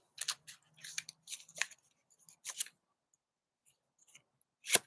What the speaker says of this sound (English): so I'm gonna shuffle